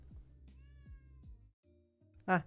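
A cat in the Honkai Impact video game lets out one loud, close meow near the end, after a stretch of soft rhythmic thumps and quiet tonal game sounds.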